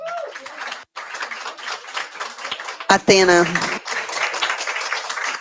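An audience at a national gathering breaks into a burst of clapping, heard briefly under a woman's close, amplified speech.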